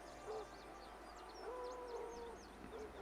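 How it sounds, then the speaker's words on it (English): Bird calls from a sound-effect set for a haunted-woods fantasy game session: faint chirps repeat high above a low hooting call, all soft against quiet background ambience. "I just heard birds."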